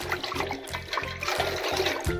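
Mango seed kernels being rubbed and swished in a bowl of water, a steady sloshing and trickling with repeated rhythmic pulses, close and fairly loud throughout.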